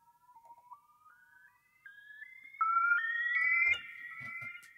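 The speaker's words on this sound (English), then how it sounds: "so we can listen to oscillator 2 on its own." Oscillator 2 of the Primer AUv3 synth on iPad, its pitch driven by sample-and-hold, steps upward through a series of clean sustained tones that jump at irregular intervals and grow louder and thicker toward the end, heard alone.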